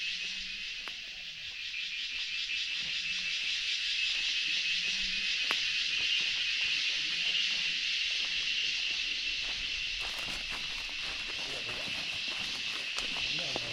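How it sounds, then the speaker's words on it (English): Crickets in a Kerala forest in Periyar National Park keep up a steady, high insect drone throughout, with a person speaking quietly beneath it and faint footsteps. "The continuous sounds you hear in the forest are made by the crickets."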